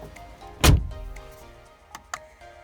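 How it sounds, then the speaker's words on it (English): One solid car door thud up close on a 2019 Mercedes G500, followed by a couple of lighter clicks and knocks in an otherwise quiet space. "Yeah, I need to slam the doors."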